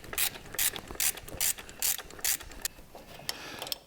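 A ratchet bolts a power steering pump back into place on an LS swap engine, giving close, crisp rhythmic clicking in about six even bursts followed by a few lighter, quicker clicks.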